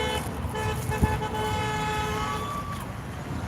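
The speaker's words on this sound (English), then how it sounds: "Lots of horns honking still." Car horns honk on a city street during a rally in Beverly Hills: a sustained toot with a short sharp blast, steady over a constant traffic and crowd rumble.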